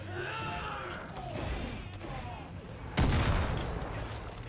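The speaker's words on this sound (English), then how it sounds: "Oh shit, that was a grenade." A grenade goes off in the Far Cry video game, a sudden loud broadband blast mid-clip that stays roaring with debris noise over a busy backdrop of gunfire and in-game clatter.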